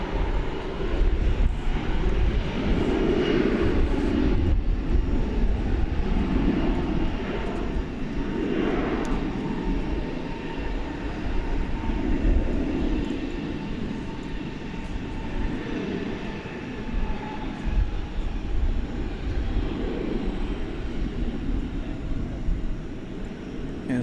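American Eagle Embraer 175 regional jet at Dallas Fort Worth airport at night, a sustained jet engine roar and whine that swells slightly early on and then holds steady before easing toward the end.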